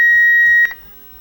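A cockpit fire-detection test warning sounds as one steady electronic beep tone that holds for about two-thirds of a second, then cuts off and leaves a faint hum.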